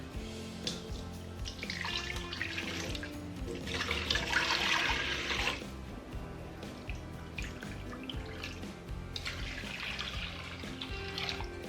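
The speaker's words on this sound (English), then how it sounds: "a couple of cups of warm water in each." Warm water is poured from a jug into bread-making containers in bursts, a splashing trickle that swells twice then tapers into drips, fairly close and without talk.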